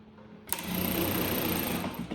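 A Shunfa A8F computerized sewing machine starts sewing: after a quiet moment, a sudden steady high-pitched mechanical whir runs continuously up close until the end.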